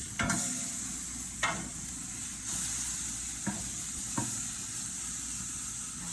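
Beef tenderloin sizzling steadily in a hot pan after being flipped a second time, a constant close hiss broken by a few sharp clicks and taps from utensils, with no talking.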